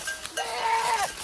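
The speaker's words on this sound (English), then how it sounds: "It's just goats are screaming and calling because they're in heat." A goat in heat lets out one long, loud, wavering bleat lasting under a second, close by, with faint background noise.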